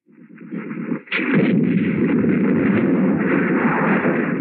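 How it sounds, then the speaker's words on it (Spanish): Cannons firing in a 1971 western battle scene, a loud sustained roar of blasts and rumbling fire that surges sharply after a brief opening burst and holds at full strength to the end. "¡Los cañones! ¡Fuego, fuego!"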